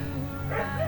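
Pregnant dog giving a short, close bark-like yelp blended with a low whine, lasting about a second over a steady background.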